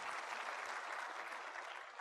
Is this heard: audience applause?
yes